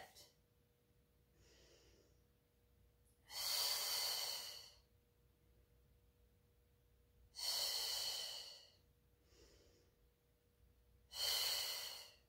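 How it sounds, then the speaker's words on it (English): Breathing during a Pilates mat exercise: three strong, loud exhales, each about a second long, come at a steady pace, with softer inhales between them and a quiet room behind. "we inhale to lower, exhale to lift"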